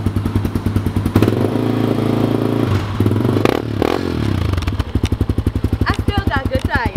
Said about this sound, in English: Start the bike, let's see. I gotta hear it.